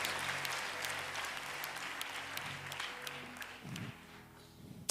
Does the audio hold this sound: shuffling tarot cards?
no